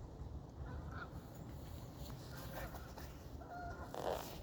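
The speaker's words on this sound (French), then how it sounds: "Puis c'est plaisant d'entendre les oiseaux." Geese honk and call over a river, with several brief squawks scattered through a faint, noisy outdoor background and a louder burst near the end.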